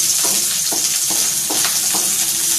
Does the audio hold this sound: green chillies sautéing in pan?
yes